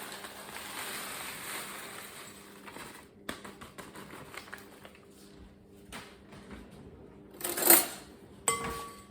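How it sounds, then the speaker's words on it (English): A spoon stirs crushed biscuit pieces through melted butter and honey in a bowl, giving soft, faint scraping with a couple of sharper clinks near the end, no voices. "Melted butter with honey, and I'm going to tip these in and stir them around until they're coated"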